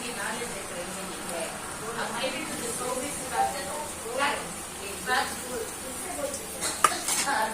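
Onions sautéing in butter in a pan, a quiet sizzle with a spoon stirring and scraping against the metal in irregular strokes, one sharp clink near the end, under soft background voices.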